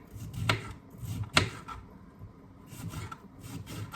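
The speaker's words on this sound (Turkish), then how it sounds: "şimdi lahanayı doğruyorum" A knife chops through crisp cabbage on a board, with two sharp cuts, then softer, uneven slicing and rustling nearby.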